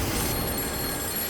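A telephone bell rings loudly and continuously, a dense buzzing jangle that fills the short moment without any pause.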